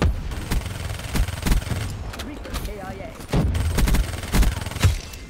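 Rapid bursts of gunfire ring out in a first-person shooter game, sharp, close and loud, in several clustered volleys with brief gaps between them.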